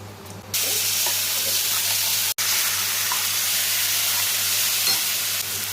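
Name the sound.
whole garam masala spices and chilli frying in oil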